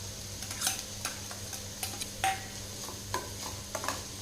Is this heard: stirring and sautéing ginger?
yes